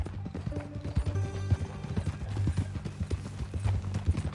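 Horse hooves clip-clop steadily in a Red Dead Redemption 2 game scene, a near, rhythmic trot over a low rumbling background with faint snorts.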